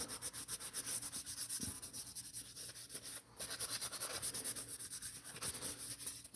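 Steady back-and-forth sanding on a model kit car body, a continuous rhythmic abrasive rasp close to the microphone with a brief pause near the middle, and no speech.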